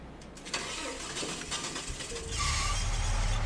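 A truck engine starts up in Farming Simulator 22, mechanical clicks and cranking giving way to a loud, rough rumbling idle that settles in during the second half, with no talk over it.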